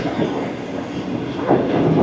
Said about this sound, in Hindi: पास थ्रू कर रहे हैं मलिर स्टेशन से,